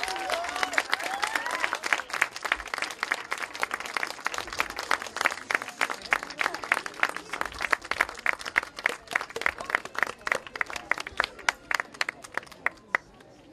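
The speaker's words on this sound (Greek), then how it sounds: "να τη χειροκροτήσουμε που μας ταξίδευσε" An audience claps for a storyteller at an evening storytelling event, with many hands making a dense, lively applause that stays steady throughout, a few voices faintly underneath.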